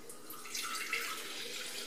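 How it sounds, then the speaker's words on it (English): Chicken stock pours into a pan, a soft continuous splashing trickle of liquid heard close by for a couple of seconds with no talk. "you're going to see me pour my chicken stock into"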